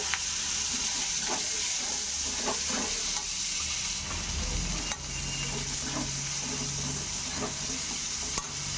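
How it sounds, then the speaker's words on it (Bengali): Sliced onions hiss and crackle as they fry in hot oil tempered with black nigella seeds, a steady close sizzle running throughout with occasional stirring scrapes and utensil knocks. "তেলে একটু কালো জিরে ফোড়ন দিলাম, পেঁয়াজগুলো দিয়ে দিলাম।"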